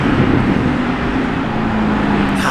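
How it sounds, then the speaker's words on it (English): A Lamborghini Revuelto passing on a road, a steady engine drone with a faint rising tone under general traffic noise, heard from moderately close, no talking. "I think we have another Revuelto."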